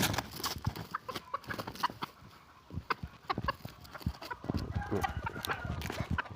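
Quiet, scattered clucking of jungle fowl, with soft scratching and thumping noises nearby.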